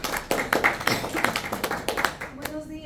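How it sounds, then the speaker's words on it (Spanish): Audience applause at a talk on circular economy, a scattering of individual claps that ring out fairly close and sparse before dying away. "la doctora Albina Ruiz, a quien la recibimos con un fuerte voto de aplauso."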